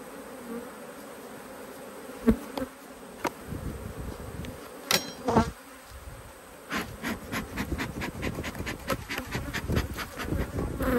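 Italian honey bees buzz steadily around an open hive, close and dense. Occasional knocks and handling sounds from working the box cut through the hum, with no voices.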